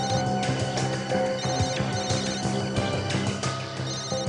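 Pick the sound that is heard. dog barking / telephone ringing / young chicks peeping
telephone ringing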